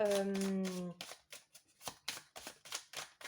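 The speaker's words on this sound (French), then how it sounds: "je prends 3 cartes" Tarot cards shuffled and handled in a series of quick close rustles and soft slaps, after a brief low hum at the start.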